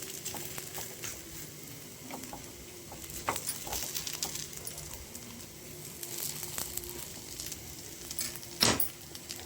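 Gunta punugulu frying in oil in a pan, a steady soft sizzle with light crackles and one sharper spatter near the end, close and moderately quiet throughout.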